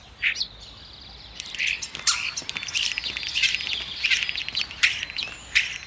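A starling sings in a garden, pouring out a busy, varied stream of whistles, clicks, chirps and squeaky notes, fairly close and continuous, with no voices over it.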